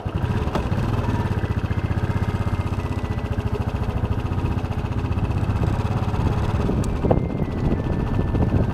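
A motorcycle engine on a ride along a bypass road from Jorhat to Sivasagar, with a steady, close, throbbing putter that holds an even rhythm throughout and carries a faint rush of wind, with no talking.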